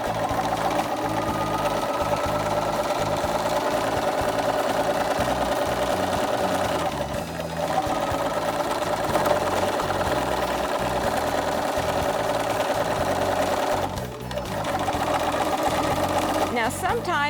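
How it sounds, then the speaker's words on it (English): A sewing machine stitches steadily around a pressed jeans hem, its fast motor hum running loud and close with a couple of brief pauses in the stitching. "continue to stitch all the way around my hem that has been pressed in place for me"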